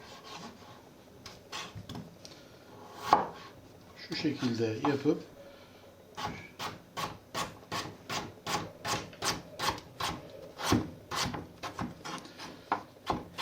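Rapid, evenly spaced chopping taps of a knife dicing potatoes finely on a board, a steady run of crisp knocks, with a person speaking briefly partway through.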